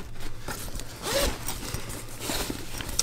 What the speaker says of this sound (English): The zipper feels a lot better than their first duffel bag that they came out with